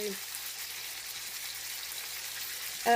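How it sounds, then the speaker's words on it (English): Pork chops browning in a pan, giving a steady, fairly quiet hiss of sizzling fat that holds even throughout, with a voice cutting in briefly at the very end. "while the meat is browning"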